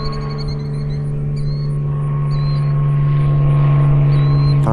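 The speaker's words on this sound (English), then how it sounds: "Yep, it's a plane." A steady, loud engine drone hums continuously with a low tonal rumble, like a propeller plane passing overhead, with no voices.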